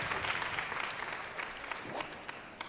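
Brief burst of audience applause at a prison-ministry conference opening night, a dense patter of clapping that holds steady then thins slightly, with faint voices mixed in.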